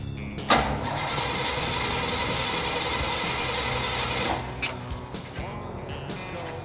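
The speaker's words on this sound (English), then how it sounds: "we're going to go ahead and crank this thing over and prime the bowls on this thing" A car engine fitted with a newly installed SMI carburetor cranks over in one sustained, loud grinding run of about four seconds, then cuts off, leaving faint mechanical clicks and rustle.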